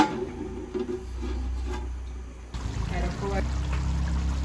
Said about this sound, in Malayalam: നമുക്കിനി ഈ ഫസ്റ്റ് പാൽ ഇതിലോട്ട് ഒഴിച്ചു കൊടുക്കാം